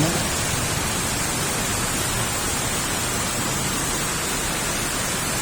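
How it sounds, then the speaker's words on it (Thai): Steady, dense hiss of rain falling, an even wash of sound with no breaks and no voices. "ก็ฝน"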